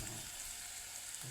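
Chili powder dropping into a hot frying pan gives a steady, soft sizzle and hiss that holds through the moment, close and fairly quiet, with nobody talking.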